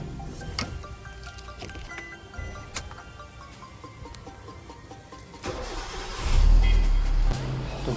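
A muddy car engine cranks and fires into a low idle, preceded by clicks, taps and scattered handling noises, the engine rumble swelling louder near the end.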